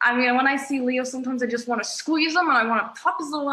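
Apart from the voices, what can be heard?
None of the usual background noises is heard.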